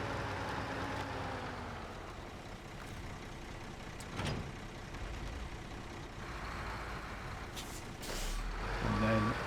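A heavy logging truck reverses with a log trailer in the SnowRunner video game in Alaska, a steady engine drone with a reversing beep and a sharp air-brake hiss near the end, close and continuous.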